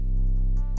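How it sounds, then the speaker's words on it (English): An 808 bass sample from a Madsko pack plays once, a loud deep booming sustained tone lasting under a second before cutting off with a click. "The only 808 that I use in this song is this one from my Madsko pack."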